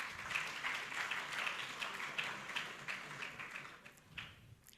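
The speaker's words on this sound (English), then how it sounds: "Please clap for yourselves." An audience at a financial literacy conference panel applauds, a steady patter of many hands clapping for several seconds that thins out toward the end, heard at moderate distance in a large room.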